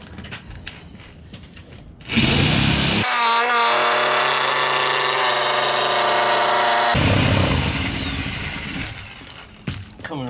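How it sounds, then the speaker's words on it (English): A reciprocating saw cuts straight up through a laundry room wall during demolition, a loud, steady buzzing grind that runs for several seconds after scraping noises, then drops back to rustling and handling sounds. "I'm using a sawzall to go straight up on that sucker"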